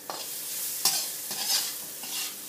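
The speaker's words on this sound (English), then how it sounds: "Now add salt and pepper all together. Fry it little." Vegetable noodles seasoned with salt and pepper fry in a pan, a steady close sizzle broken by several louder scraping stirs, with no voices.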